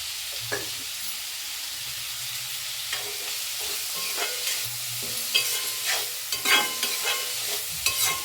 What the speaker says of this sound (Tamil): இந்த வெங்காயம் தக்காளி வதங்கட்டும்.